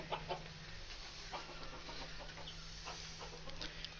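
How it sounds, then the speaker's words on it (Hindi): Pet chukar partridges, including two white ones and some females, make soft clucking calls. The calls are faint and scattered over a low background hum. "ये जी चकोरे हैं, ये दो सफ़ेद वाली चकोरे हैं और ये मादियां हैं"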